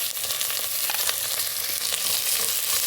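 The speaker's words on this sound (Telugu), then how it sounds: "ఇదంతా కూడా కలిసినట్టు ఈ విధంగా కలుపుకుంటూ ఫ్రై చేసుకుందాం" Shahjeera, ginger-garlic paste and turmeric fry and are stirred in a pot for bagara rice, giving a steady close sizzle with occasional scraping clicks throughout.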